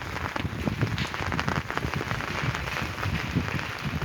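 Steady rain falls and patters on surfaces outdoors in Carpi, Modena, Italy, a dense continuous hiss with scattered drop taps, fairly close and even throughout, no voices.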